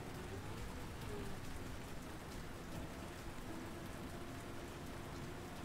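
Steady, dense rain pours in a racing video game on a fully wet track, a continuous hiss with soft rumbles underneath and no talking.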